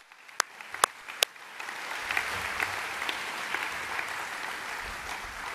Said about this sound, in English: So could everybody give Billy a wonderful round of applause?